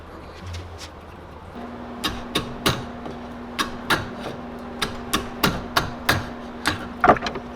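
A hammer strikes wood over and over while shaping a fishing swimbait, about a dozen sharp knocks at an uneven pace, with a faint steady hum beneath.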